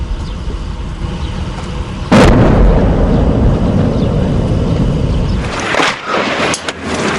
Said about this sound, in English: even as they're hit by incoming shells and mortars.